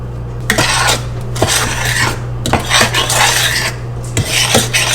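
A spoon stirs melting sugar and butter in a pot with repeated close scraping and clinking against the metal in an uneven rhythm, and no voices are heard.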